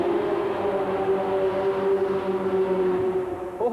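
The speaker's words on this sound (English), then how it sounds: "That V6 can still put out about 500 horsepower." V6 engine of a 1932 Austin Bantam mud racer, rated around 500 horsepower, at a 1990 USHRA event in Cincinnati, Ohio, a loud steady droning roar held throughout, with a slight pitch shift near the end.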